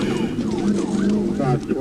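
A police car siren wails in rising and falling sweeps during a high-speed pursuit, heard from inside the vehicle over road noise with a voice nearby.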